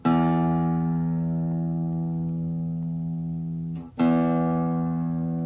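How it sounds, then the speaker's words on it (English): A single low E guitar string is plucked and rings with rich harmonics, slowly fading, then plucked again near the end. "Let's begin as always by tuning"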